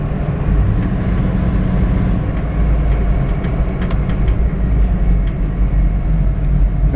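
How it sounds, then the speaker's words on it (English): A 1984 Chevrolet K5 Blazer Silverado idling in neutral, its exhaust a loud, deep, continuous rumble with a slight swell in engine revs partway through, heard close and without speech. "I'll put it in neutral and give it a couple revs. It's got a mean sounding exhaust."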